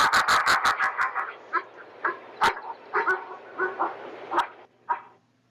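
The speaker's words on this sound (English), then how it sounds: "Here's some barks and woofs." Wild wolves in Yellowstone National Park give a burst of rapid barks followed by softer intermittent woofs and whimpering yips, fairly close and clear against a quiet background.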